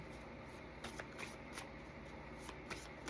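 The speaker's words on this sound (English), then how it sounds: "reshuffle it because all the cards fell out" A deck of cards is shuffled close by, giving soft, quick riffling bursts that repeat in a loose rhythm over a quiet background.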